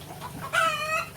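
Hens in a backyard chicken coop, some of them broody and sitting on eggs, give a short burst of clucking, with one louder, sharper cackle close by that fades out over about a second.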